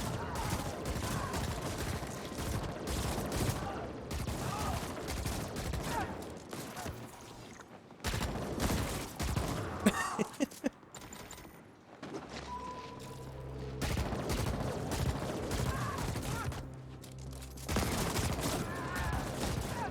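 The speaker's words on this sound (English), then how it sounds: "Just curving bullets around walls and stuff." Gunfire from the sci-fi shooter The Ascent, played on easy mode, with bullets curving around walls: dense bursts of rapid shots in several clusters separated by brief lulls, loud and close, against a busy game soundscape.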